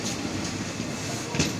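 An 18628 Ranchi–Howrah Intercity Express pulls into platform 4 at Adra Junction, giving a steady, loud rumble of rolling railcars with a brief brighter burst near the end and no talk.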